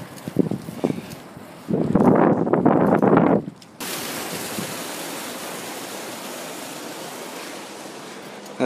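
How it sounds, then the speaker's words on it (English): A mighty coastal waterfall: after a few seconds of nearby rustling and bumps, a steady broadband roar sets in and holds unbroken to the end. "That's the most mighty waterfall along the coast."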